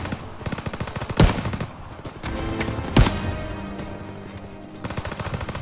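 Gunfire in the video game Call of Duty WWII, with loud rapid machine-gun bursts and two sharp, prominent single shots standing out above a dense battle din, no speech.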